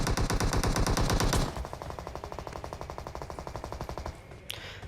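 Sustained automatic gunfire from squads fighting each other in the PUBG Mobile game, a dense loud burst of rapid shots easing into a steadier, slightly quieter rattle of repeated fire, then a brief sharp crack near the end.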